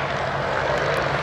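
A de Havilland Moth biplane, an all-wooden 1930s aeroplane, drones steadily at an airshow, its propeller engine a continuous, fairly loud hum that holds level throughout with no voices over it.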